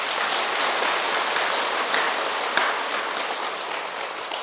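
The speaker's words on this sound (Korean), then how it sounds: "그분한테도 박수 한번 보내드려" Audience applause at a Buddhist temple dharma talk, a steady dense patter of clapping hands at moderate distance, even and unbroken for several seconds.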